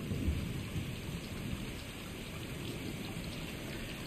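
Rain and thunder in the Stray video game: a steady wash of rainfall with a low rumble of thunder near the start, fairly quiet and continuous with no voices.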